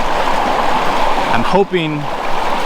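A Louisiana stream flows over rocks, a steady close rush of water that continues under a brief stretch of a person speaking.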